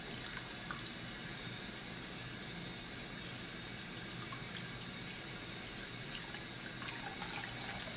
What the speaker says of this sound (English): I'm now going to rinse my dentures.